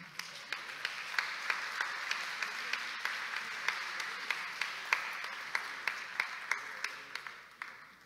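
Audience at an engineers' collegiate ceremony applauds, with faint steady clapping and a few sharper individual claps standing out in a regular rhythm, distant and low in level, with no talk.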